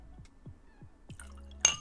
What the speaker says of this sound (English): Let me just pour it in my glass.